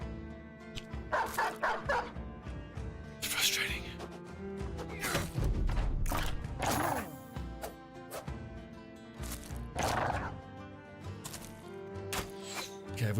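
Dogs in the Battle Brothers video game bark and yip in bursts amid combat noises and clashes, with someone talking over parts of it.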